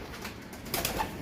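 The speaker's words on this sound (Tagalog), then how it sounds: "may umuwi pa tayong isang ibon dito na ayan, oh" A racing pigeon arriving home gives soft, faint coos against quiet background noise, brief and low in level, with no talking.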